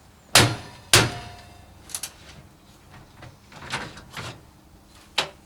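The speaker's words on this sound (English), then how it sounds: "then lift the door off of the hinge" A couple of sharp metallic clunks, then several lighter knocks and rattles as a heavy Neff Slide&Hide oven door is lifted off its hinges and shifted, close by.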